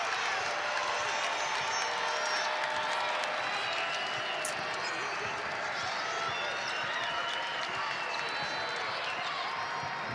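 A college basketball arena crowd roars and cheers steadily throughout a Bradley Braves at Northern Iowa Panthers game, with a commentator talking over the noise.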